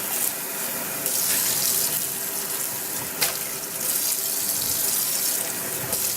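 Water from a kitchen tap runs steadily into a sink as a container is rinsed out while breakfast is being made, a continuous close splashing that stays even for several seconds and rises in a couple of brief surges.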